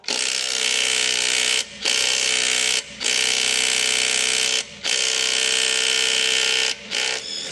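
An impact screwdriver hammers loose a bolt torqued to 150 newton-meters, loud close bursts of rapid rattling impacts in four long runs separated by brief pauses, with no talk.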